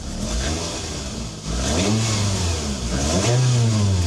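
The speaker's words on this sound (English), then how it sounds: "I'll give you a little rev here." The engine of a 2010 Toyota Vanguard 240S G-Package, an imported Japanese SUV, revs up twice from idle, each rise climbing and falling back, loud and close with no voices.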